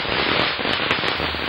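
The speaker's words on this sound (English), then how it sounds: "I could hear all the fireworks going on outside" Diwali fireworks and firecrackers going off outside, a dense, continuous crackle of loud bursts and pops with no pauses.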